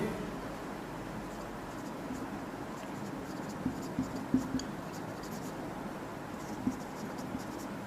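Ballpoint pen scratching across paper while a notice is written out, a faint, steady rustle with a few small taps, close and quiet with no voices.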